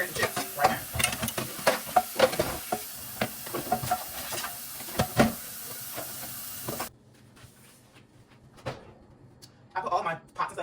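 A burger fries in a pan with a steady sizzling hiss under frequent sharp scrapes and clicks of a utensil, nearby, before the sizzle drops away and only scattered clatter remains.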